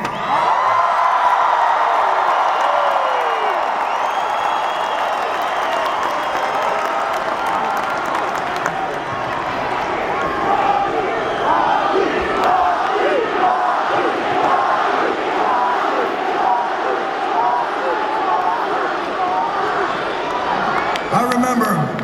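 A sellout arena crowd at WWE Smackdown Live in Hershey, Pennsylvania, cheers and roars loudly and without a break, a dense wall of shouting and whooping that fills the whole stretch.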